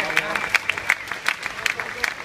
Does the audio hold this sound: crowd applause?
yes